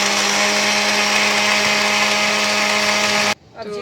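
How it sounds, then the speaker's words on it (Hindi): A blender whirs loudly and steadily, mixing jaggery syrup with half a kilo of milk for Peshawari gur sharbat, then cuts off abruptly near the end, leaving near silence. "अब तो जी अच्छी तरह ब्लेंड हो गया।"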